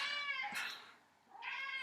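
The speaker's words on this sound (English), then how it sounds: "Cat's making an appearance again." A house cat meows twice, a drawn-out call followed by a second one, fairly faint and close in a quiet kitchen where butter is being made in a Thermomix.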